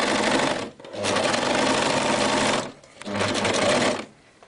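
An overlocker stitches a rolled hem on a rouleau strip, running in two loud, steady bursts of fast mechanical whirring separated by a short pause, with a quieter tail at the end.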